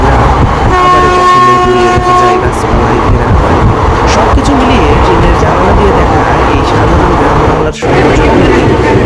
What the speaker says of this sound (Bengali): পাশ দিয়ে আরো একটা ট্রেন চলে যাচ্ছে।